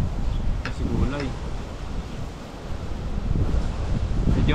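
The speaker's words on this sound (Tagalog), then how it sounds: "Medyo malakas po yung hangin dito." Strong gusty wind buffets the microphone outdoors, a steady low roar that swells and eases, with faint rustling and a few brief voice fragments in the background.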